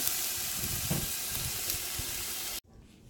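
Chicken broth hitting a hot pan with melted cheese, a loud steady sizzle and steam hiss that cuts off abruptly near the end.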